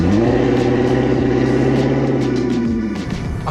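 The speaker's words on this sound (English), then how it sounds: "I can't believe a Passat is making all that noise." A Volkswagen Passat with a W8 engine revs hard and loud, a steady, throaty mid-range roar held close up for several seconds before easing off slightly at the end.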